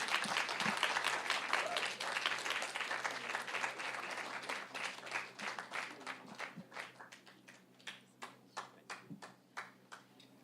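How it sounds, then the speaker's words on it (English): An audience at a Toastmasters District 51 convention's expert speakers session applauds the speakers on stage, a dense roar of clapping that gradually thins into sparse, separate claps toward the end. "Give them a round of applause."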